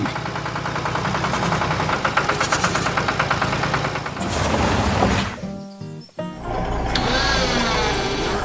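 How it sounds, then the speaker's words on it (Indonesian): A red tractor and a hay collecting machine work together in a field with a steady, mid-pitched engine drone and a rhythmic mechanical pulse, followed by a brief whirring and clunking burst near the end. "traktor merah dan mesin pengumpul jerami sedang bekerja bersama"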